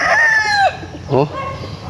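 A stag or cock chicken crows once, loud and close, a long drawn call, followed by a short clucking burst from the fowl.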